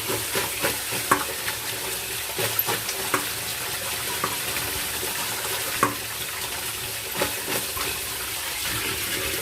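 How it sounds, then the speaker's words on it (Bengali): Ridge gourd and potato pieces are washed in water in a kitchen, with steady splashing and occasional clinks while fish sizzles as it fries nearby. "এবার ঝিঙে আলুটাকে আমরা ধুয়ে নেব।"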